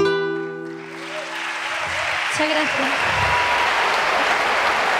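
Ovation at the Premios Al-Andalus gala after a singer's performance, with a held sung or music tone fading in the first couple of seconds into a broad, steady wash of crowd applause and cheering that continues loud to the end.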